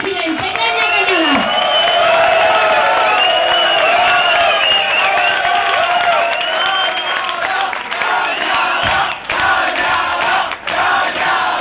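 A crowd honouring Pedro Nemes and president Nemes Cañada bursts into loud, continuous cheering and applause, thick with shouting voices and whoops, muffled and dull in tone, with brief dips near the end.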